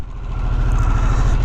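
A 2021 Harley-Davidson Sportster S motorcycle engine drones steadily on a test ride in Southern California, a loud close low rumble with a pulsing beat that swells slightly after a softer start.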